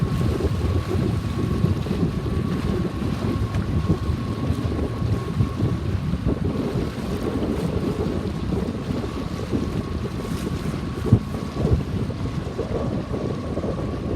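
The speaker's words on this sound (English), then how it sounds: "Good wind right here." Strong wind roars across the microphone aboard a 29er sailing dinghy, a constant loud rushing with water and hull noise beneath it and a couple of brief knocks, no voices.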